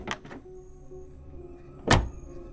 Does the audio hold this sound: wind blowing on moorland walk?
no